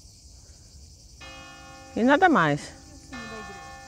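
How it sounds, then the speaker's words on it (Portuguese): A church bell rings in Oggiono, Italy, with a sustained resonant tone that starts partway through, briefly interrupted by someone speaking over it, then resumes. "E o sino da igreja tocando."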